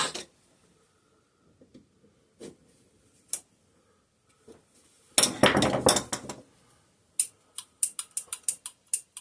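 A hammer is set down and put away among tools while working on an antique McCulloch generator, making scattered light metallic clinks and ticks. A louder burst of clattering comes midway, followed by a run of sharp, close clicks.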